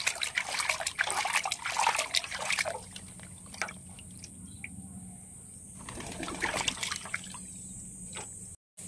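Water trickles and splashes as a pigeon's breast is held down in a basin to soak it, with bursts of dribbling near the start and again later and a quieter stretch between.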